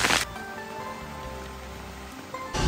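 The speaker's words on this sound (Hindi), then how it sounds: "आज बीजिंग में मूसलाधार बारिश है" Heavy downpour in Beijing, heard as a steady hiss of rain with faint tonal background hum. A louder burst of rain noise comes at the start and end, and no one talks.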